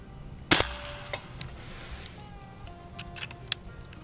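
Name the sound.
Beeman underlever .177 PCP air rifle shot at a can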